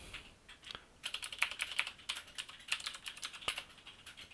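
Keys on a Mac computer keyboard clatter in quick, uneven bursts of typing, close and clear but fairly quiet, with short pauses between runs of keystrokes and no talking.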